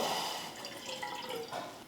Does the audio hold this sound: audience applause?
no